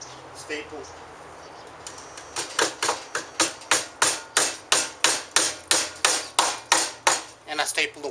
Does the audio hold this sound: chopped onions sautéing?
no